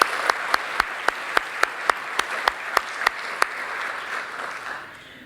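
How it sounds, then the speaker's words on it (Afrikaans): An audience at a school launch function in Pretoria claps for a contributor, a full round of applause with a few sharp, evenly spaced claps standing out before it fades away near the end. "Ek dink ons kan vir haar klap."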